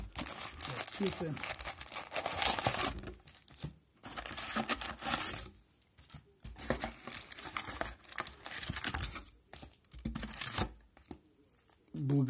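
Hockey card packs from a 2008/09 Upper Deck MVP Winter Classic 24-count retail box being torn and crinkled open, with bursts of foil wrapper crumpling and tearing close by, broken by short pauses.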